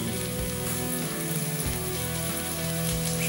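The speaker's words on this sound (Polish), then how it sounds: "do takiej cebuli wrzucam pokrojone mięso do tej wołowiny bez przypraw" Chopped beef, unseasoned, sizzling with onion in a pan, a steady dense crackle and hiss without talk.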